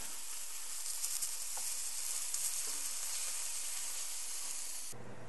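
Steaks for steak au poivre sizzle in an oiled skillet, a close, continuous hissing crackle that holds evenly for about five seconds before cutting off abruptly.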